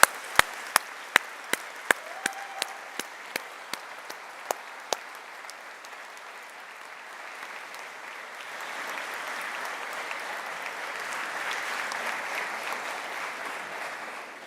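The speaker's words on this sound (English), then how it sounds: "offer a round of applause for those who supported you to get to where you are today" Graduation ceremony audience applauding: sharp separate claps at first, then a broad sustained wash of steady applause from a large crowd, moderately loud and filling the hall.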